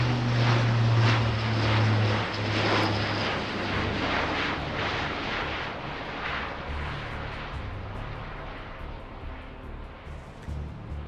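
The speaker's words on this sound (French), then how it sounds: "La 400M est un avion tactique." An Airbus A400M military transport aircraft flies at an air show with its propeller engines droning loud and steady, then fading slowly as it passes.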